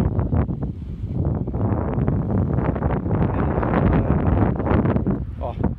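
Strong wind buffets an outdoor microphone, producing loud, continuous low rumbling and gusty thumps that rise and fall, with a person talking faintly beneath the noise.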